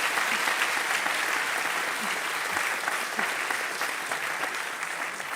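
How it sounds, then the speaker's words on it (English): Steady, full applause from a large audience at a university graduation ceremony for an international relations and diplomacy master's class, sustained evenly from start to finish with no letup. "Marike Geurtsen, a big applause."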